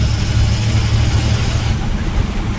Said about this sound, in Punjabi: ਟਰੈਕਟਰ ਟਰਾਲੀਆਂ ਬਹੁਤ ਆ ਰਹੀਆਂ ਨੇ ਬਈ